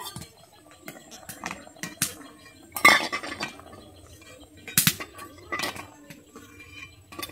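Boiled eggs scooped out of a pan with a metal spatula, giving sparse, close clinks and scrapes of metal on cookware amid quiet gaps.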